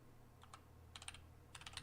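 Quiet keystrokes on a computer keyboard come in two short bursts of typing, soft and nearby against a low steady hum, with no one talking.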